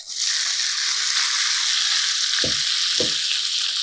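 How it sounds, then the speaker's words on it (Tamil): Tempering spices crackle and splutter steadily in hot oil in a pan while cooking lentil rice, a bright, continuous sizzle with a couple of soft knocks near the end. "இப்போ நல்லா பொரிஞ்சு தெரிய ஆரம்பிக்குது பாருங்கள்"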